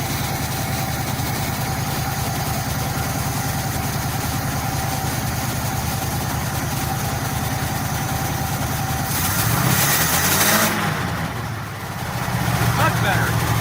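A 1966 Chevy Biscayne, running again after 15 years, idles steadily at close range while warming up, a constant low rumble that briefly swells and dips near the end.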